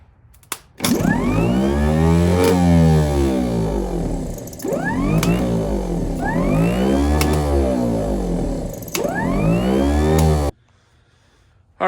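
A Jeep CJ5 engine that had been stuck after sitting for more than 20 years is cranked by the starter in several long bursts, each a loud, rhythmic whirring churn that rises and falls, with short pauses between attempts.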